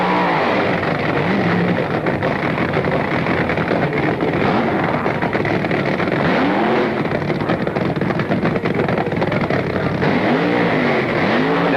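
Front-engine dragsters racing at an NHRA elimination round, a steady loud roar of engines with broad wind-blown noise and several rising and falling revving sweeps near the start and end.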